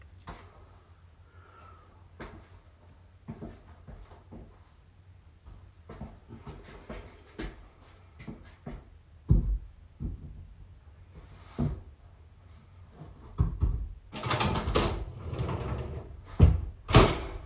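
A cut-down pocket door is hung onto its overhead track and slid into the wall pocket, with quiet clicks and knocks building to louder clunks, scrapes and a rolling rumble near the end.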